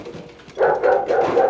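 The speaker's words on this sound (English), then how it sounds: "Mom, when are you going to do something about the Hummel's dog?" A neighbour's dog barks in a quick run of loud, close yaps that start suddenly after a brief quiet moment and continue in a steady rhythm.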